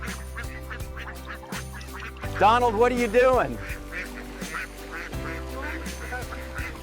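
Egg-laying ducks quack in a farm enclosure, a cluster of loud nasal calls rising over a background of softer chatter and clatter, while a person speaks briefly.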